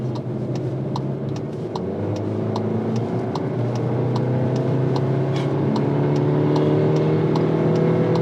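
A Seat Ateca engine pulls steadily from inside the cabin, its droning tone rising as it accelerates and dropping back when the gearbox shifts, alongside regular ticking.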